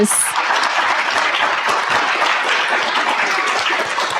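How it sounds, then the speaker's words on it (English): Sustained, loud applause from the audience at a state poetry recitation finals, honoring the performers; thick continuous clapping holds steady throughout with no break. "Put your hands together and let's give a round of applause to our performers."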